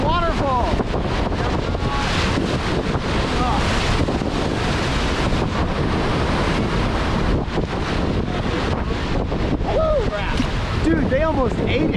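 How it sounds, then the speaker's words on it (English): Rushing whitewater on the high-flowing South Fork American River, a loud, steady roar of churning rapids and surf with wind buffeting the microphone, while people shout and talk over it throughout. "That's a freaking waterfall."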